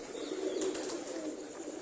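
A racing pigeon gives a soft, brief coo, faint and close, over a low background hum with no voices.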